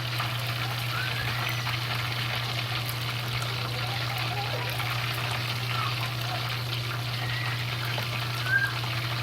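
Pork pieces for sweet and sour pork fry steadily in hot oil in a pot, a continuous close sizzle and crackle that holds even for the whole stretch with no talking over it.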